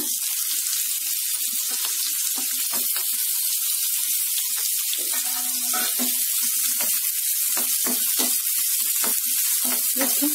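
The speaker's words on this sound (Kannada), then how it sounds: "ಒಂದು 3/4 ನಿಮಿಷದಷ್ಟು ಚೆನ್ನಾಗಿ ಫ್ರೈ ಮಾಡ್ಕೊಳ್ಳಿ ಈರುಳ್ಳಿನ." Chopped onion frying in hot oil with cumin seeds, a constant loud sizzle with scattered clicks and scrapes of stirring throughout.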